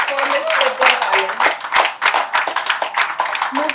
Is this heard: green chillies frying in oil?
no